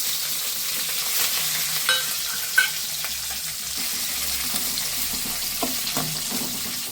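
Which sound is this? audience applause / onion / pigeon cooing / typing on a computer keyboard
onion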